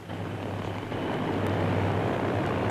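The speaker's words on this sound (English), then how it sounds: "Now a C-47 taxis into a towing position to receive the other end of the rope." A C-47 aircraft taxis into towing position for a glider on a 1944 airfield, its piston engines a steady, loud drone that holds constant throughout.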